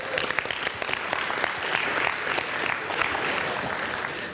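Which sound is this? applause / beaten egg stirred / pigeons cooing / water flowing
applause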